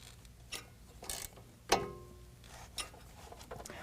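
An 18mm nut on Superlift 2.5-inch lift kit hardware is tightened down on a 2022 Ford Maverick, giving a few faint separate ratchet clicks and one sharper metallic clack in a quiet garage.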